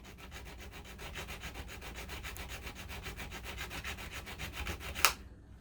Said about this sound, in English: I'm going to cut across all of the wires with my flat needle file just to get a groove started there